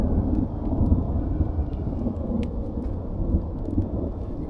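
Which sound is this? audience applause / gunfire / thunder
thunder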